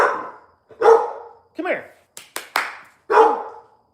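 Dogs bark indoors in a house, loud and close, in a handful of sharp, separated bursts over a few seconds, while a person calls to them between barks.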